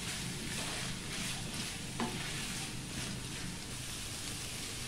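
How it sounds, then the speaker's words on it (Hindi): Green chillies and onion fry in a little oil with a dense, continuous hiss and crackle, close and even, a single faint clink partway through and no talk. "हरी मिर्च और प्याज। और इसको कर लेंगे फ्राई।"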